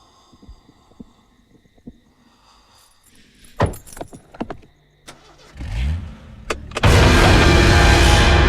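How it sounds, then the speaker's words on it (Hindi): A car in a cold setting is started: scattered clicks, clunks and jangling first, then a brief cranking whine and the engine catching into a loud, steady roar that continues to the end. "मैं गाड़ी चला रहा हूँ"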